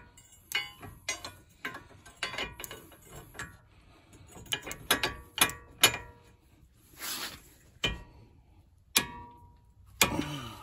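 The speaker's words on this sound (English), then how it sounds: "then you put your torque wrench on here and give it a spin" A ratcheting wrench clicks in quick irregular bursts while tightening a CV axle nut during a car CV axle replacement, the sharp metallic ratchet ticks close and fairly loud against a quiet garage.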